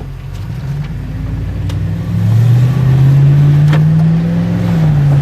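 A Dodge Dakota R/T pickup accelerating hard on a 100 HP nitrous shot, its engine note climbing steadily and loudly over several seconds, close and dominant with no talk.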